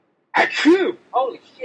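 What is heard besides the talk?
sneeze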